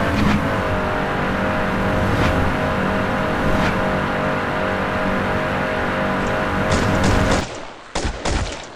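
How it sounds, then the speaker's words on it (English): A racing car's engine drones steadily in a mobile racing game, a loud sustained hum holding pitch before cutting off abruptly near the end with a few clicks. "The game gives you that open racing feel, just driving around, testing speed, improving control."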